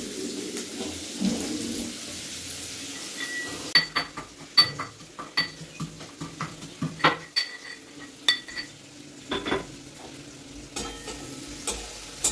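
Onion, capsicum and tomato frying in a pan, a soft steady sizzle broken by repeated close clinks and scrapes of a utensil stirring against the metal, with no talk.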